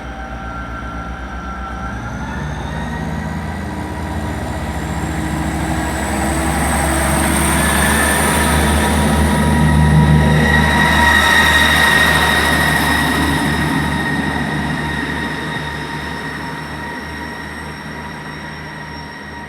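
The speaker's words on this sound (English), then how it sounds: "That's heading in on platform 1. Heading now into depot 158-730." A ScotRail diesel train, unit 158-730, rolls through Haymarket station toward the depot, a loud sustained rumble with humming engine tones and a high wheel whine that builds to a peak midway then slowly recedes, with no talking.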